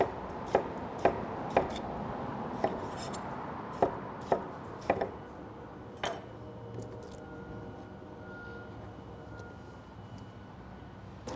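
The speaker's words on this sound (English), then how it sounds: "just a rough chop on our tomatoes" A knife roughly chops tomatoes on a cutting board in a series of crisp, close thuds, about eight irregular strokes that thin out and stop, followed by quiet room noise.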